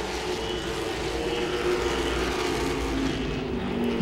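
Late model race cars roar around Langley Speedway in a steady, dense engine drone, loud and continuous with overlapping motors and no break over the whole stretch.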